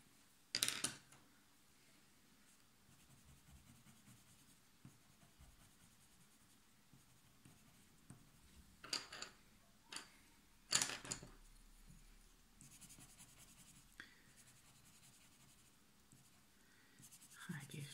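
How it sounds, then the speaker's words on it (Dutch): Colored pencils scratching across black paper while drawing soap bubbles, heard as soft, close strokes in short bursts with quiet gaps between, faint and uneven in rhythm. "zorgt dat de potloden flink wat kleur afgeven op het zwarte papier"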